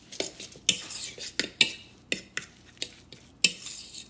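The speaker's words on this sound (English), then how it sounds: "And I'm going to mix this all together." A utensil scrapes and clinks against a bowl while lamb burger mixture with cheese, basil and tomatoes is stirred together, giving a quick irregular rhythm of close metallic taps and squishes.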